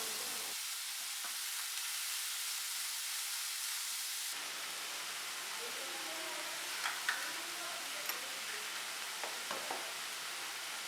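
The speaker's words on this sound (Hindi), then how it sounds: "अब मैं इसमें ऐड करूंगी 1 पाव बीफ का कीमा और इसको 4 से 5 मिनट अच्छी तरह से भूनेंगे।" Beef mince frying in a pan with ginger and garlic gives a steady, close sizzle that rises sharply partway through, with a few small stirring clicks near the end and no talking.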